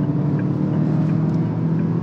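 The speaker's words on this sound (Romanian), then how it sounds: "Evident, motorul pe benzină își face auzită prezența." A car's petrol engine accelerating hard on kickdown while overtaking: a loud, steady droning engine note with road rumble fills the whole stretch, with no talking.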